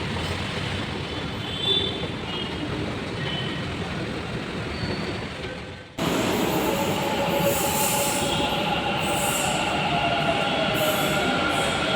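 A metro train moves through a station platform in Bangalore with a continuous heavy rumble and wheel squeal. It surges louder partway through as the train draws nearer.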